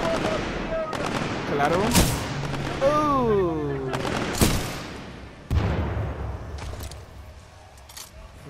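Gunfire in the video game Titanfall 2: several sharp, loud shots spaced a second or two apart over game sounds, with a player talking briefly between them.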